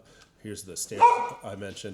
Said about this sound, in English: That's my dog, so I apologize.